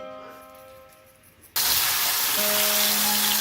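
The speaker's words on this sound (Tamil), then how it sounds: "அதை ஆயிலில் லைட்டாக ஃப்ரை பண்ணி எடுத்துக்குவேன்" Chilli- and salt-coated paneer pieces dropped into oil, a sudden loud broadband sizzle bursting in after a quiet start and holding steady, with a faint tonal hum beneath.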